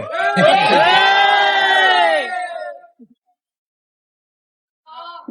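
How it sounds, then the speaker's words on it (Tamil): Cinema crowd in a Madurai theatre cheering for a visiting film team: a loud, sustained roar of shouting and whooping for about two seconds that fades to silence, followed by a brief voice. "கைத்தட்டு."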